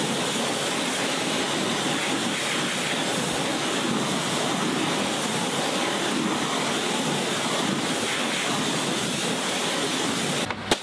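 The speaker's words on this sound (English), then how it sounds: "After both products were allowed to dwell for around 10 minutes, the complete exterior was rinsed down." Water hose spraying over the exterior of a Ford Focus RS Mk2 to rinse it down: a steady, loud broadband hiss of spray that runs continuously with no pauses and is heard alone.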